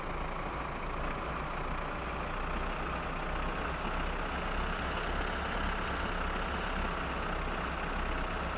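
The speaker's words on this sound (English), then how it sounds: "Before we go too far down the hill, we're gonna reverse up here." Tractor towing a trailer in the My Summer Car video game, its engine giving a steady low diesel rumble that holds constant and fills the background.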